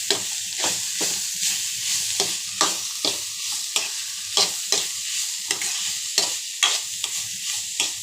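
Grated coconut fries in a hot pan under a constant sizzle, punctuated by quick, regular strokes of a spatula stirring close by.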